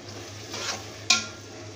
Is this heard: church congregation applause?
no